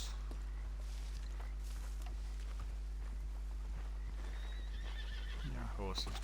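A horse in Red Dead Redemption 2 whinnies near the end over a steady low hum and faint hoof clops, with quiet background noise throughout.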